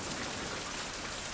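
Steady rain pours down in the survival video game Fountain of Youth, a dense and continuous hiss of drops falling on surfaces, loud and unbroken throughout, with no voices.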